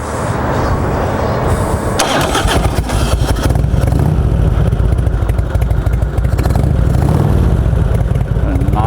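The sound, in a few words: Harley-Davidson Heritage Springer motorcycle engine running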